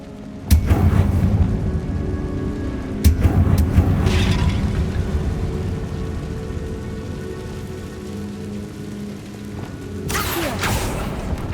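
Confringo spell blasts in the video game Hogwarts Legacy, with booming explosions at the start and again partway through, each followed by a rumbling, crackling tail, and a fainter burst near the end.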